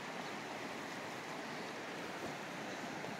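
The Bear River flows at about 350 cubic feet per second in December, a steady, close, full-band rushing of water that stays constant throughout, with no voices.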